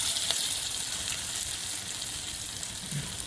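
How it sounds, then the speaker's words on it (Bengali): Jute leaf fritters frying in hot oil make a dense, even, hissing sizzle with crisp crackle, close and steady with no voices. "এবার আমি পাট পাতাগুলো বড়ার শেপে করে দিয়ে দিচ্ছি দেখুন তেলে।"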